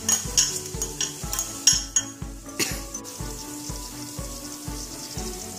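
Fennel and cumin seeds sizzle in a pan while being stirred for dum baby potatoes. A soft frying hiss runs under a steady rhythm of spoon clinks against the metal.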